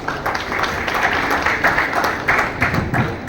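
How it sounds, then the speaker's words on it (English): Clapping from the audience at the 15th Agricultural Leadership Conclave and awards ceremony, a steady crowd applause of many hands at moderate volume with no voices over it. "Please welcome with a hearty applause."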